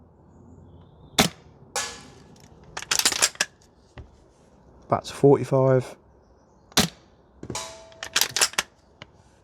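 Maple Leaf bolt action kit on a VFC M4 GBBR airsoft rifle shooting at range targets, with sharp isolated shots, bolt clacks and metallic target rings spaced a second or more apart, mixed with brief talking.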